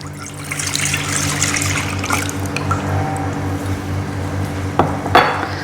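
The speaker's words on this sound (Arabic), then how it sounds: "راح صب الحليب" Milk poured into a pot or container for a pistachio drink, with a steady liquid splash and some light clinks of kitchenware close by, with no talking.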